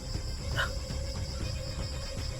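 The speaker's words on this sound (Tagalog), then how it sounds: "May naririnig na akong mga tahol ng aso" Several dogs barking outdoors at night near a rural house along a downhill trail, a mix of distant barks and yips repeating irregularly over a steady background hiss.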